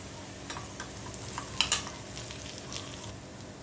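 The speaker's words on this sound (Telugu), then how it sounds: "ఆనియన్స్ వేగుతున్నాయి కదా" Onions frying in a pan for a Telugu egg dish, a soft continuous sizzle with faint stirring scrapes and a couple of brief clinks in the middle.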